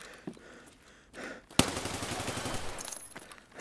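Automatic weapon fire in Escape from Tarkov on the Labs map, a few scattered shots and then a loud close burst that kicks into rapid sustained firing.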